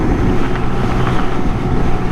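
A Honda Grom motorcycle riding along Highway 1 makes a steady, loud low-end engine drone blended with continuous wind rush, with no pauses throughout.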